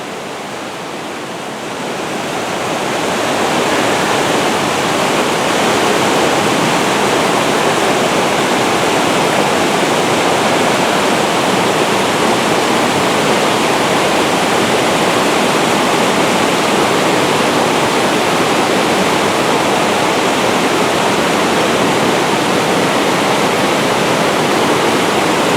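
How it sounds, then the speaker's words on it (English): Loud, steady rush of a fast-flowing mountain creek in high flow, a dense continuous roar that swells in over the first few seconds and holds without pause, in Colorado's Eagle's Nest Wilderness. "this is about as much water as I've ever seen coming down the creek right here"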